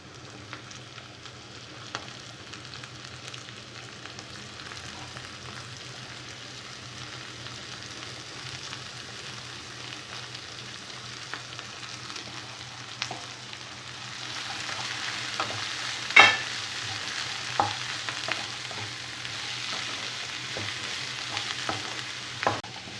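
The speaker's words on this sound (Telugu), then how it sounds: "ఉల్లిపాయ ముక్కలు కొద్దిగా ఫ్రై అయిన తర్వాత దొండకాయ ముక్కలు వేసుకోవాలి." Ivy gourd pieces frying with onions in a pan produce a soft, even sizzle at first, then more audible stirring scrapes and clicks later on.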